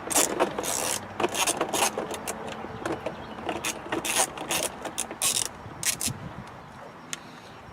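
A ratchet with a deep metric socket loosens a bolt on a Jeep JK during a CB radio install, giving rapid close clicking bursts in uneven runs with brief pauses between strokes.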